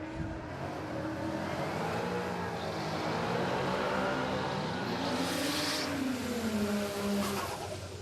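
A drag racing car at the start line of a raceway launches with a loud, rising engine roar that wavers and sags as it bogs down, the strained revving sustained over about eight seconds.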